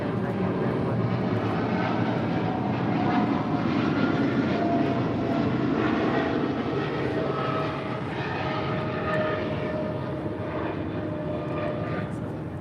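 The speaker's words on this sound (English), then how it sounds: "That was Cargo King 236 departing to Seattle on a 777 freighter" A Boeing 777 freighter departing LAX gives a loud, steady broadband engine roar that holds for the whole stretch and eases slightly toward the end, heard from nearby on the airfield.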